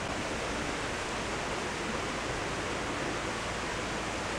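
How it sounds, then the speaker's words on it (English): A constant, full rushing of water, steady and loud like a stream or waterfall close by, with no other sounds. "They left the water running for us last night."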